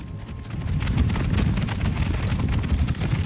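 Zemindari horsemen galloping in the strategy game Empire: Total War, a dense rumbling patter of many hooves with a windy roar, loud and steady throughout.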